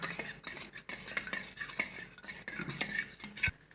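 A spoon stirs cumin powder, coriander powder and chaat masala into curd for dahi vada, giving soft, close, repeated scraping and clinking against the bowl in a brisk, uneven rhythm, with no talk.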